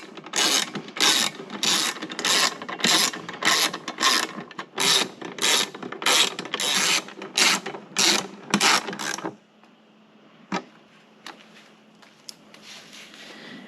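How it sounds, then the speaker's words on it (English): Rapid, loud ratchet clicking in repeated bursts as a 3/8 socket snugs bolts on a car air box bracket, then a quieter stretch with a few isolated clicks. "we'll go ahead and cinch them down with this ratchet and 3/8 socket"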